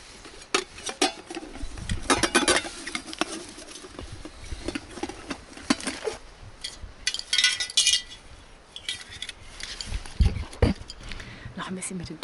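Cooking pots clink and clatter at a tent campsite in Kyrgyzstan's Tien Shan mountains, irregular metallic knocks and rattles close by, while a person talks throughout.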